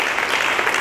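An audience at a press conference in a palace hall claps, a brief steady patter of many hands with no voices.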